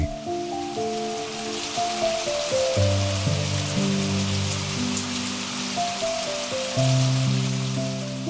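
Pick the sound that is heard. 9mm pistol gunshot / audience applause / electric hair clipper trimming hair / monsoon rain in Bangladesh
monsoon rain in Bangladesh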